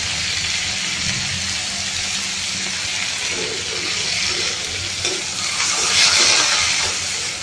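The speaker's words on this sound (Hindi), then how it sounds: "तो अब मैं इसमें ये टमाटर डाल दे रही हूँ" Tomatoes and salt go into a pan of softened onions for paneer bhurji, giving a soft, steady hiss and sizzle with faint bubbling and stirring underneath.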